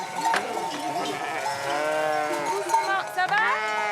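Dairy ewes bleating on a farm, a flock of overlapping wavering calls close by, several voices rising and falling together, with people talking among the animals.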